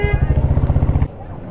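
A motorcycle at Ghum railway station near Darjeeling on a cold day, its engine throbbing in a steady, loud, low rhythm for about a second before cutting off abruptly into quiet.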